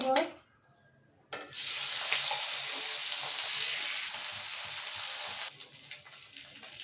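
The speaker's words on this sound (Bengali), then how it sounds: "এখন আমি মাছগুলো ভেজে নেব।" Tengra fish dropped into hot oil in a wok, a quiet moment and then a sudden loud, steady hiss of frying that sizzles on close by and eases slightly toward the end.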